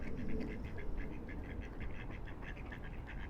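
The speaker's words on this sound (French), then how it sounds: "j'ai des canards qui viennent me voir" Ducks outdoors call in a quick, rhythmic series of faint quacks over a steady low background rumble, with no talk.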